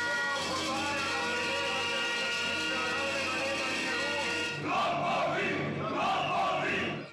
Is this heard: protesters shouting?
yes